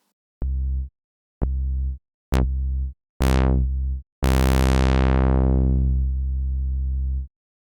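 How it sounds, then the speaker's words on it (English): A WavTool Wavetable Synth bass plays five notes as the filter envelope decay is lengthened: early notes are short, dull plucks, later ones brighter, and the last rings out as a long, slowly darkening tone, loud and alone. "Adjusting the decay knob controls how quickly the filter closes"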